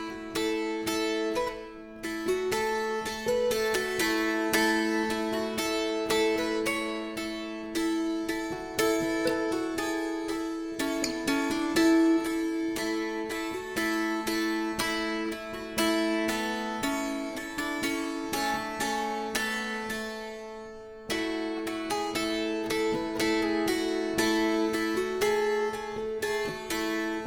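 Mountain dulcimer played alone, a steady plucked drone underneath a moving melody line, with bright strummed and picked strings ringing continuously and a brief pause near the end before the playing resumes.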